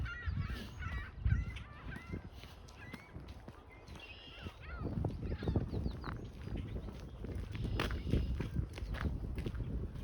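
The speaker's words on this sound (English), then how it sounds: "Every time I hear those seagull sounds, it always gives me the vibe of going to Lake Ontario." Seagulls call with high squawks over a busy outdoor backdrop on park trails at Colonial Samuel Smith Park by Lake Ontario, steps and a low rumble underneath, the cries clustered early then scattered.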